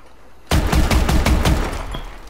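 A shotgun in Call of Duty: Advanced Warfare opens fire after a brief quiet moment, loosing a rapid, loud string of about seven close blasts in quick succession with a tail of fading echo.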